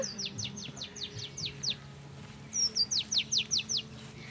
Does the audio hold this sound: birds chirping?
yes